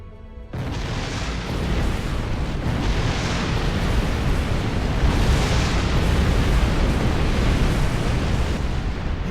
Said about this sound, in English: And we'll detonate the charges.